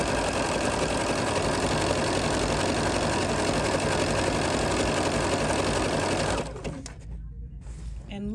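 A Bernina sewing machine stitches fabric with a loud, steady, rapid mechanical whir that runs continuously, then stops, leaving faint handling sounds.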